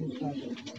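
Tonk pigeons coo in a brief, soft, low burst, with a voice speaking close by.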